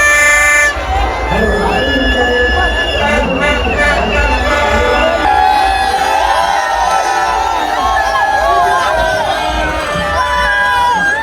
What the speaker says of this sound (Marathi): हे बघा ट्रम्पेट घेतली ताईंनी